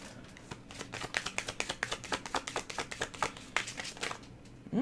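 Tarot cards shuffled by hand, a quick, even run of crisp riffling flicks close by, steady rhythm for several seconds with no talking.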